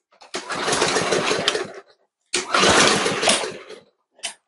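A primed lawn mower engine tries to start in two long rough sputtering bursts, with a pause between them and a brief final cough, loud and close.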